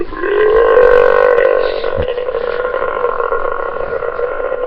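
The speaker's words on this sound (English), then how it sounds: "Watch as he can perform the longest burp and fart ever." A dog lets out a long, loud, drawn-out burp, a steady croaking belch that swells early and then holds at a lower level to the end, close to the microphone.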